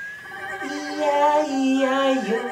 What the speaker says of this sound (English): With a neigh neigh here and a neigh neigh there.